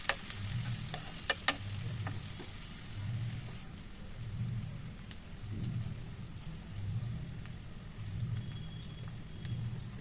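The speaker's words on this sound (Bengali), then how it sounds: "এভাবে প্রায় কিছুক্ষণ ভেজে নিয়ে পেঁয়াজ যখন একটু হালকা ব্রাউন কালার হয়ে আসবে" Onions fry in a pan until light brown for a fish and bottle gourd curry, giving a faint, soft sizzle under a low, regularly pulsing hum, with a few sharp clicks near the start.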